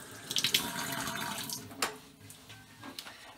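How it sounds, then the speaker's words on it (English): Hands being rinsed under a running tap at a sink during a 1930s vanity lamp restoration, a steady close splash of water with brief louder bursts, no talking. "now let me rinse my hands"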